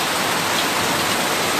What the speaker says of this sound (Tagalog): yung ulan, tumutulo sa yero.